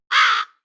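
A single harsh raven caw, loud and close, about half a second long, rasping and alone in silence.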